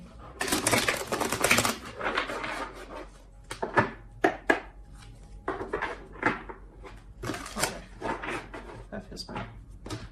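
Tarot cards riffle and shuffle in repeated bursts of crisp flapping, with small taps and clatters between them, close to the microphone.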